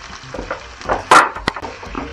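Chopped green chilli and ginger hit hot oil for lemon rice, giving a close, soft sizzle with a few sharper crackles and a brief burst of spitting midway, no voices.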